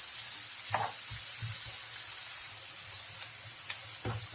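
Finely chopped medium onions sizzle steadily in oil in a pan, with a spoon scraping and stirring through them in occasional soft knocks, close and continuous without talk.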